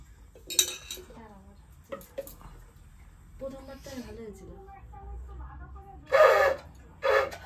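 Dishes and utensils being washed at home, with scattered clinks of cutlery and pots, running water in two loud bursts near the end, and someone talking in between.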